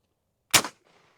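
A single loud gunshot fired into meat during a bullet penetration test, one sharp blast with a short decaying tail, close and alone with no talk.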